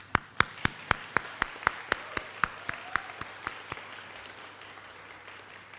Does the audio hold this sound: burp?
no